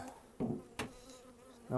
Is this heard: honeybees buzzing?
yes